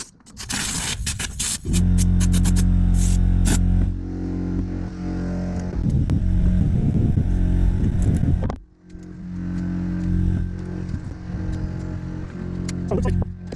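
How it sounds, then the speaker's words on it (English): Compressed air blasts dust out of a Craftsman push mower, a loud hissing rush in bursts with a deep rumbling undertone, pausing briefly and starting again, with a voice over parts of it. "I'm gonna go ahead and blow some dust out of there"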